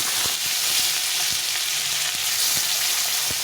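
Tomatoes hitting whole spices frying in hot oil for a Bengali katla fish curry with eggplant, giving a loud, steady sizzle throughout with scattered faint taps and clicks of stirring.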